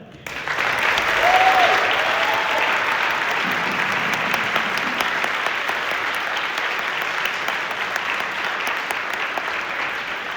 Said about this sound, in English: So y'all can clap for yourself, but y'all clap for them.